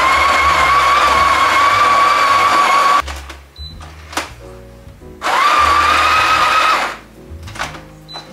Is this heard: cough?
no